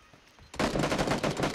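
Rapid automatic gunfire erupts in the video game PlayerUnknown's Battlegrounds, a loud close burst of shots following a brief quiet moment.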